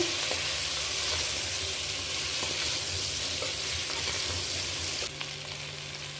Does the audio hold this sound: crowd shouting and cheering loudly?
no